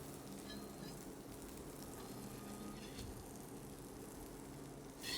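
Assorted nuts, sesame seeds and chopped ginger sautéing in a pan, a soft, steady crackling sizzle that continues evenly and quietly.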